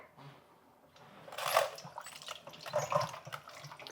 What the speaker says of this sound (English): Now I'm using a food mill with a coarse die